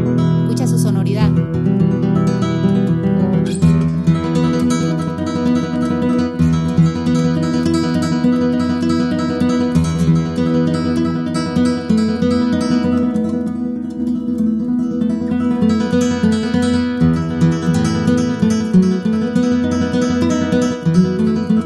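An acoustic guitar from 2001, its owner's long-kept instrument, rings out in a full, sustained passage of chords and melody with warm low strings and bright overtones, played close and steady for the whole stretch with no talking.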